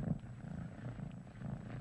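A stray cat with a skin condition purring in an animated scene, a soft continuous low rumbling purr with gentle rhythmic swells, quiet and close, with no voices.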